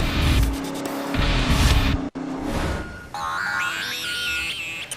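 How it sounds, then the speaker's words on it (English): A Factory Five kit car built in a home garage races on a track, its engine roaring loudly past with a sharp cut midway and then rising tonal whine as other cars follow. "He pulls into the lead with just 2 laps to go, all in a Factory 5 kit car built in his own garage"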